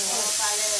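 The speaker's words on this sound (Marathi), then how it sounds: "इकडे वटाण्याची कुकरचा आवाज येतो जास्त." Steady broadband hiss of steam escaping from a pressure cooker cooking peas in a home kitchen, continuous and fairly loud through the whole short moment.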